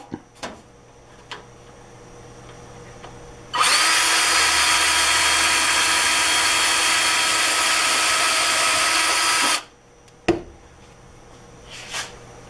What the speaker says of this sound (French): quand on perce un trou